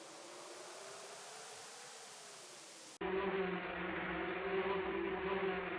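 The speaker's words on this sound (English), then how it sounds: "The trunk is home to a fair few bees." Bees in the King's Quest III remake video game buzz around a tree trunk, making a steady, droning insect hum. It cuts abruptly to a louder, lower buzzing drone with a tonal hum partway through, and no one speaks.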